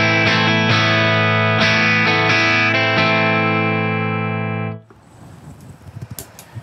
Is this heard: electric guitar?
yes